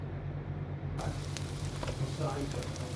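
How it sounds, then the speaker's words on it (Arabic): Chicken dropped into hot lamb tail fat with onion in a pan, setting off a sudden loud, dense crackling sizzle that continues steadily and close. "هنا هسه ننزل الدجاجة مالتنا على الشحم والبصل"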